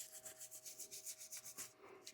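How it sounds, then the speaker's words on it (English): Rhythmic bristle scrubbing on a Weber briar pipe stummel, steady back-and-forth strokes repeating about every quarter second, close and fairly quiet, with no voices. "So I'm going to brush on this for about 3 to 4 minutes"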